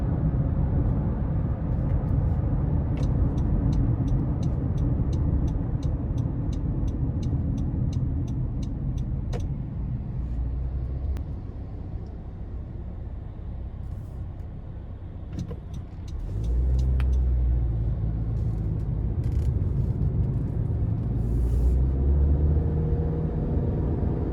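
Interior cabin noise from a 2020 Honda CR-V EX-L with a 1.5-liter turbo engine and CVT on the road: a steady engine and road drone that dips briefly mid-drive and then swells again, with no talking.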